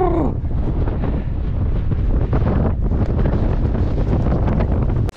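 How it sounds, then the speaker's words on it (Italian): Cold mountain wind on Monte Legnoncino blows hard and steadily across the microphone, a loud, continuous rumbling roar with no voices, cutting off abruptly at the very end. "Che gelo, è il vento"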